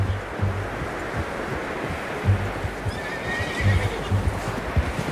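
A horse whinnies in the video game Red Dead Redemption 2 over hoof clip-clops and a windy, surf-like rush; hooves thud irregularly nearby throughout.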